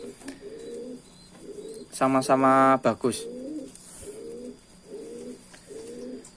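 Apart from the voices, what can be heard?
pigeon cooing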